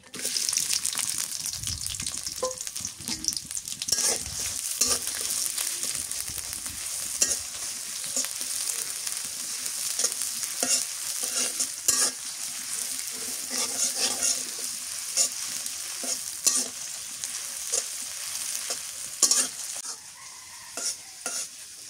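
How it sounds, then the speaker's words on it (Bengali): Chopped onions with a bay leaf fry in hot mustard oil in a pan, giving a steady sizzle with repeated scrapes and clinks of stirring and brief bursts of water throughout, close and continuous. "পেঁয়াজটা ভালো করে ভাজলে তরকারিটা মজা লাগে, একটু লাল লাল করে ভাজা"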